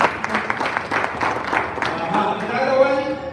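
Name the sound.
audience applause, big hand clap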